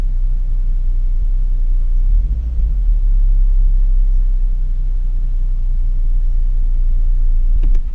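A car engine fitted with new double platinum spark plugs runs at a steady low idle, a constant deep rumble with a brief shift in tone partway through, close and continuous with no talking.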